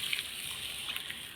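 Grindstone rinse water poured into a simmering masala curry, giving a soft, steady sloshing trickle with a few small splashes, faint and continuous with no voices.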